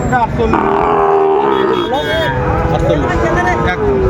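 Loud, drawn-out moos of Sahiwal bull calves up close amid a busy cattle market crowd with people talking in the background.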